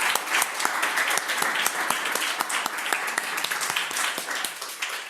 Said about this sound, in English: Please give Deirdre a round of applause.